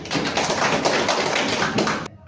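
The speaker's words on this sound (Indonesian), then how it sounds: "Oke, kita tepuk tangan dulu ya." Students in a university class in Indonesia clap their hands in a brisk, close burst of rapid claps lasting about two seconds before stopping abruptly.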